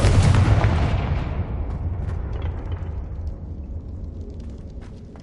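Confringo spell explosion in the video game Hogwarts Legacy on PS5, a single heavy blast that booms loudly at the start and fades into a long rumbling tail with faint crackles.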